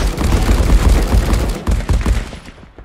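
Rapid bursts of automatic fire from a DP machine gun in a first-person shooter, loud and close, dense and continuous for most of the stretch before thinning out at the end.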